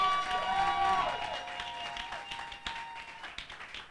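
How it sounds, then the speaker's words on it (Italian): Applause at a European poetry slam championship in Rome, with clapping building under a voice at the start and then continuing as a moderate, uneven patter with a few sharper claps. "Un applauso a Gabriele Bonafoni e Olimpia"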